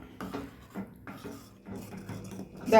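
A spoon scrapes and knocks against a pot of sago payasam in several short, quiet bursts, with soft clinks between strokes.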